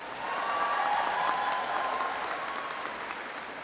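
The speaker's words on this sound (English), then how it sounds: "Give me the applause." A commencement ceremony audience at National University claps steadily for a few seconds, a broad, even wash of many hands heard from a distance and filling the hall, with no speech over it.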